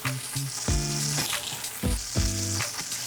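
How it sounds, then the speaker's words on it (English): Venison browning in a hot pan, a steady loud sizzle with bursts of crackling fat, the hiss continuous throughout while the pan's contents are shifted around. "Let's check our venison. So what we're doing is we're making sure that this is nicely browned."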